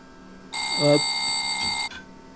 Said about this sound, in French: on a la sonnerie pour le contrôle d'appui